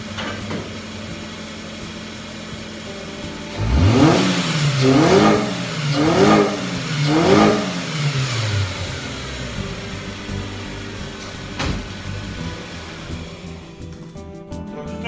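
A Ford Ka engine idles and then revs three times in quick succession, each rise and fall loud and close, before settling back to a steady idle.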